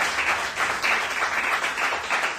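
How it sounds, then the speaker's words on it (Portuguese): A church congregation applauding during a service, a dense, steady wash of many hands clapping at once that carries evenly through the whole stretch, with no clear voice over it. "Aplauda o Senhor com o seu melhor."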